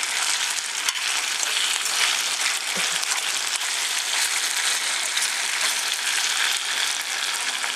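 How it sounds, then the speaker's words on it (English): Pieces of food slid off a stick sizzle steadily in a frying pan, a dense, even crackle close by with no voices over it. "I took them off the stick. And I'm just frying them up right now."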